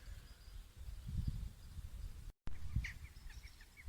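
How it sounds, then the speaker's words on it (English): Faint bird calls and chirps drift across a back garden beside a field, short bright notes repeating in the distance over low background rumble and breeze. "I'm going to be looking at what birds you can see and hear around"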